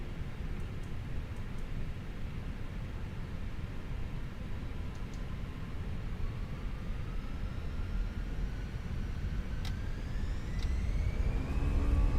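Airbus A320 jet engines on the takeoff roll in Microsoft Flight Simulator 2024, a steady broadband roar with a whine slowly climbing in pitch and growing louder toward the end, no talk.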